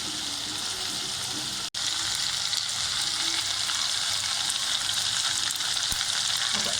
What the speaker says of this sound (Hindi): अदरक लहसुन हमारा फ्राई हो गया